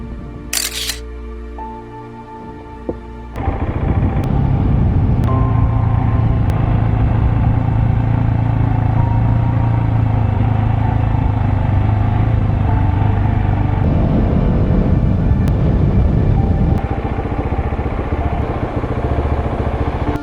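A 2023 GasGas SM 700 supermoto, a red single-cylinder machine, is ridden hard in Kansas, giving a loud, steady engine drone with rising and falling pitch for most of the stretch after a brief quieter start.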